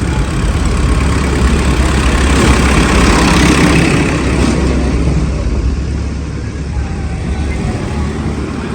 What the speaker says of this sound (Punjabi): ਚੱਲੇ ਆ ਦੋ ਟਰੈਕਟਰ